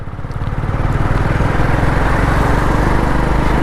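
A motorcycle engine runs while riding, a loud, close, steady rhythmic putter with a dense low-end rumble and wind noise, holding an even pace throughout.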